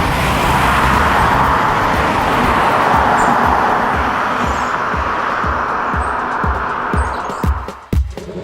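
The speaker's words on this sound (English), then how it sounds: "there goes the Ioniq, silently off into the distance, well, as silent as tyre noise will allow" Hyundai Ioniq electric car driving away on a road, its broad tyre roar loud at first and gradually fading into the distance, with a faint bird and a few light knocks at the end.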